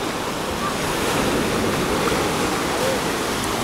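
Sea surf washes steadily onto a beach at Alanya, a continuous broadband roar of breaking waves with no clear pauses, fairly loud and close throughout.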